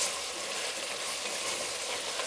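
Onions fry for Dublin coddle, a steady, close, hissing sizzle in the pan that holds at an even loudness with no talking.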